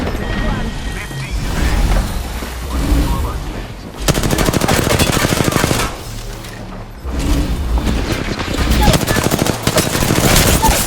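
Dense automatic and burst gunfire from a squad-based shooter video game, loud and nearly continuous with brief pauses, mixed with explosions and thuds while players talk over it.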